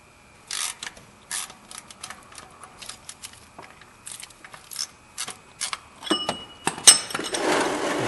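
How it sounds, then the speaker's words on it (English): Metal oil filter on a Honda Civic being turned loose with a filter tool, giving a run of scattered clicks, scrapes and ratchet-like ticks at close range, ending in a brief rushing hiss. "To change the filter, you just put the tool onto it and you just unscrew it."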